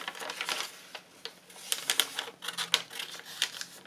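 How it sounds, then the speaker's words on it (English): Paper being folded back and creased while building a handmade accordion-style Christmas journal, heard as a run of crisp, close crackles and taps of varying loudness with no talking. "I'm going to fold this back"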